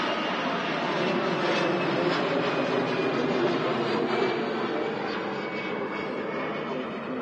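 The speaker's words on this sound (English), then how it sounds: "a Aer Lingus UK A330-300 heading off to Bridgetown" An Aer Lingus UK Airbus A330-300 departing Manchester Airport, a steady loud jet engine roar with a thin high whine, sustained evenly for several seconds.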